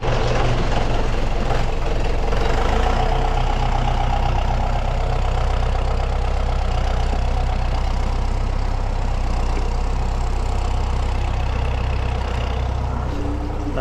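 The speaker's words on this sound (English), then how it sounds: "Dan's just moving the tractor out of the way" A tractor engine runs as it is moved out of the way near a farm shed in snowy January, a continuous close diesel rumble holding steady throughout.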